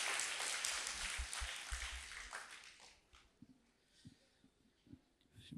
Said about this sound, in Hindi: ताली बजाइए अपने से, आपको अपने लिए ताली बजा लीजिए